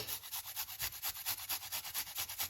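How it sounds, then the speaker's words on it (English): Garlic grated on a rasp-style grater, a steady run of quick rhythmic scraping strokes, close and fairly quiet with no voices. "You can also grate your garlic"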